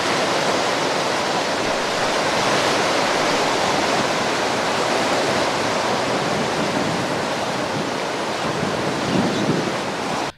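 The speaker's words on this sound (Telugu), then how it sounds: "17 క్రస్ట్ గేట్లు ఎత్తి 1 లక్ష క్యూసెక్ల నీటిని దిగువకు వదులుతున్నారు" Floodwater roars through seventeen opened crest gates of a dam releasing about one lakh cusecs, a loud, unbroken rushing torrent that fills the air and never lets up.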